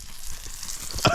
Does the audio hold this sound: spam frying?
yes